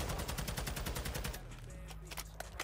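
Rapid automatic gunfire in a first-person shooter video game, loud and evenly spaced for over a second, then breaking into scattered individual shots with brief gaps.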